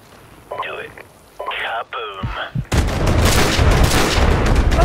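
Sustained, dense gunfire erupts in a Call of Duty: Modern Warfare Remastered battle on a hillside, loud and continuous for the last two seconds after earlier shouted voices and a couple of sharp single shots.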